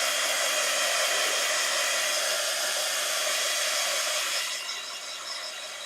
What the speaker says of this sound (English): I'm going to hit it with the heat gun real quick